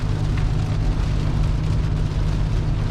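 Steady rain hisses and patters evenly throughout while camping in a tornado storm, backed by a constant low engine-like rumble, with no voices.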